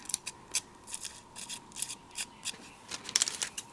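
Scissors snip through paper for a slimline friendship card, a quick run of about a dozen crisp, close cuts in an uneven rhythm against a quiet room.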